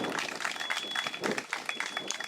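Mourners at the burial of an app driver applaud, a faint, uneven patter of clapping from a small crowd outdoors.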